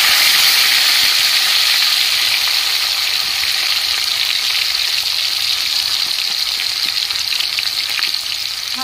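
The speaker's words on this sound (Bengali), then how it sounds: "কেটে রাখা দুটো টমেটো দিয়ে দিচ্ছি।" Chopped tomatoes hit a hot pan of cumin tempering and fry with a loud, continuous hissing sizzle that holds steady throughout. No voices.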